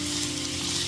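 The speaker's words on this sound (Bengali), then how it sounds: "এঁচোড়গুলো 5 মিনিট ধরে আমি খুব সুন্দর করে ভেজে নিয়েছি।" Young jackfruit pieces frying in hot oil give a steady, loud sizzle with no gaps, a close crackling hiss from the pan.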